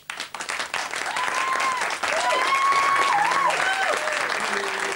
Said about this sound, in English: Can we have a round of applause for this one?